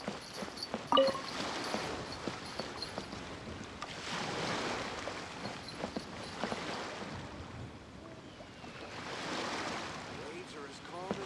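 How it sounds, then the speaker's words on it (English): Calm ocean waves in the Genshin Impact video game wash in soft repeated swells, gentle surf rising and receding with light wind, under faint scattered clicks. "Waves are as calm as always."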